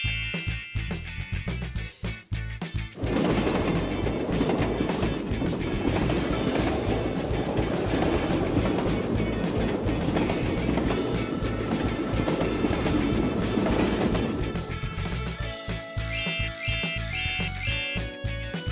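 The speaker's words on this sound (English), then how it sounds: "Great, that's the sound a train makes." A train rolls along the rails in a loud, steady rumble with a clattering rhythm, followed near the end by a brighter electronic chime-like tone.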